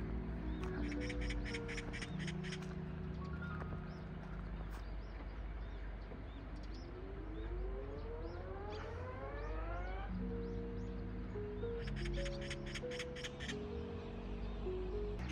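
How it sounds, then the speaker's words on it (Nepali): Birds call and quack repeatedly in calm, quiet weather in Korea, with ducks and other birds trading calls, some near and some farther off, over a faint steady background. "चराहरू रमाइरहेका छन्।"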